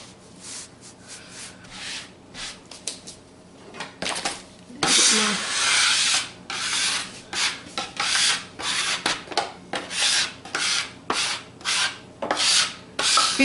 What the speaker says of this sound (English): This is one of those times when a big scraper is fantastic because I want this flour off and out of the way